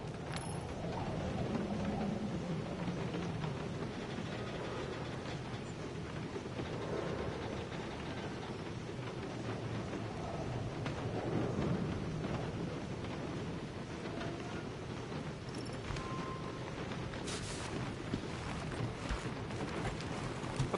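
Steady rain pours throughout with low rumbling that suggests distant thunder, a dense continuous wash of noise with occasional wind buffeting, no voices.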